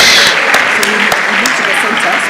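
Applause for a school student winning a technology award, a crowd clapping steadily with some distinct sharp claps, fairly loud, fading slightly toward the end with faint voices underneath.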